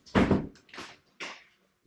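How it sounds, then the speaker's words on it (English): A door closes in a house with animal enclosures, heard as a few close, dull knocking thumps spread over about two seconds, with a short pause before the final bump. "Close the door to the other room."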